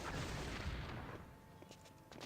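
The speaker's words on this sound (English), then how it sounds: "it's a delayed explosion." A detpack explosive from Star Wars Jedi Knight: Dark Forces II going off after a delay, a sustained loud rumbling blast that decays into softer crackling debris, with no voices.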